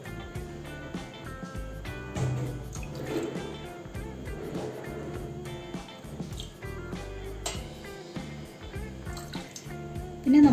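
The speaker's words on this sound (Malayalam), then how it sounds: "ആദ്യം കുറച്ച് ജ്യൂസ് ഒഴിക്കാം" Grape juice from pulpy Arabian ball grapes is poured into a container, with a continuous liquid trickle and splash plus small clinks and drips, close by, for about ten seconds and no speech.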